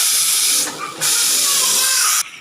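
A loud, steady hiss of steam venting from a pressure cooker, cutting out briefly and resuming before dropping away at the end.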